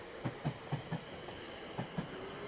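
A train running on rails with a steady rhythmic clickety-clack of wheels over rail joints, a series of evenly spaced thumps over a low rumble, moderately distant and heard alone.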